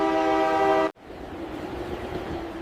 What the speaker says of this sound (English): The train is so long that I cannot even see the last carriage.